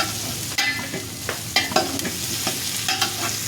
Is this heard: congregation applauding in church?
no